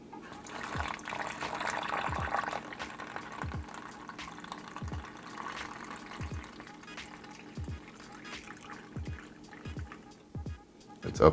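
Water poured into an MRE drink bag while mixing a grape drink, a soft steady trickle and fill sound with repeated low thumps and bag handling, close and quiet, no talking.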